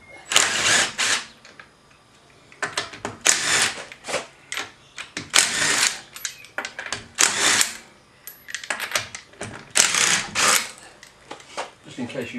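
Impact wrench removing lug nuts from a rear road wheel on a Mustang GT in a garage: repeated close, loud rattling bursts, each a second or so long, separated by brief pauses, no talk.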